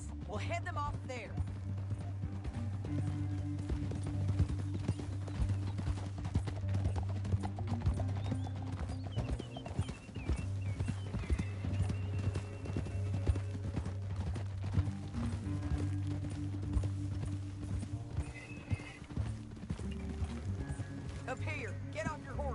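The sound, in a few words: horses galloping in Red Dead Redemption 2 video game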